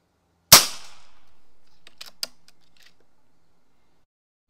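A single sharp shot from a Diana XR200 Premium .22 caliber precharged pneumatic air rifle, followed by faint mechanical clicks of the action, recorded close in a quiet setting.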